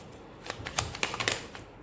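A quick run of soft, papery clicks and riffles, tarot cards being shuffled close by, lasting about a second.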